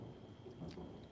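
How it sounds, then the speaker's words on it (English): Distant thunder rumbles faintly outside, a low continuous roll with a soft hiss of rain over it, no voices. "Ooh, hear that thunder outside."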